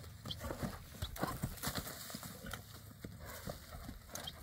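A horse's hooves thud and clop in quick, uneven beats on the ground at a horse market, moderately close and fairly quiet, with no clear voices.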